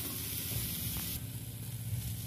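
Grated coconut drops into a hot pan and sizzles steadily, a close, continuous frying hiss with faint stirring scrapes, no voices.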